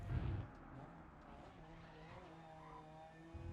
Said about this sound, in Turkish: Bu arabanın sesi bu.